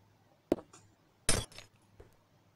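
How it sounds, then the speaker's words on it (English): Glass blocks being placed in Minecraft give a few quiet, sharp glassy clinks, two distinct hits with a faint tick after, alone with no talk. "I'm gonna replace those glass blocks"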